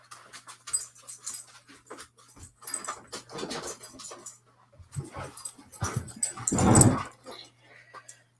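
A pet dog indoors near a kitchen, panting, whimpering and giving short sniffing and growly vocal bursts in an irregular pattern, close to the microphone, with a louder burst near the end.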